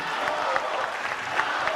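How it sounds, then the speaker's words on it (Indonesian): An audience at the first 2024 Indonesian presidential debate applauds the candidates. Dense, even clapping from a large crowd fills the whole short stretch at a steady loudness. "kita berikan tepukan yang paling meriah untuk para calon pemimpin Indonesia"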